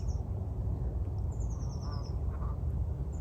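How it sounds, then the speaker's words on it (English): Ducks quack now and then beside a river near an orchard, small calls rising over a steady broadband rush of flowing water and outdoor wind. "And look at all these ducks hanging out."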